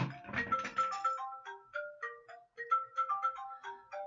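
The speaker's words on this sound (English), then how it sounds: "Pardon the phone call." A phone rings with a melodic ringtone: a clear sequence of bright electronic notes rising and falling in a looping tune. It sounds alone and fairly close.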